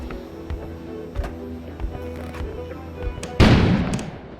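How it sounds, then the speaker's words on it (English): A sudden loud blast outside breaks through a quieter stretch of scattered thuds and knocks, its heavy rumble dying away over the final second. "An explosion suddenly occurred outside."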